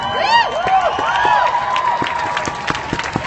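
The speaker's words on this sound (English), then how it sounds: "quite a crowd here. Not a small crowd at all." Night-time protest crowd in Oakland, with a general murmur of many people, scattered claps and cheers, and occasional sharp sounds over a steady background hum.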